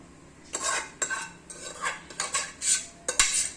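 A spoon scrapes and clinks against a metal pot while stirring cooked plantain mixture, in uneven strokes roughly every half second, close and moderately loud with no talking.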